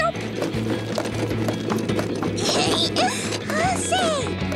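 Cartoon horse hooves clip-clop in a steady trotting rhythm, clear and close, with squeaky cartoon sound effects and background activity around them.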